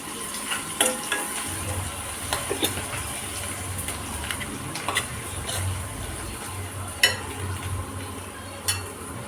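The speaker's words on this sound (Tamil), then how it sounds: "இப்போ கருவேப்பிலை போட்டுக்கலாம்." Curry leaves drop into onions that are already frying for a mutton curry, and the oil sizzles and crackles steadily with occasional sharp spatters and a few soft clinks from the pan.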